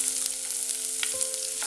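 Sliced garlic, chopped ginger and green chilli sautéing in oil, a steady bright close sizzle with a faint tap of a spoon partway through.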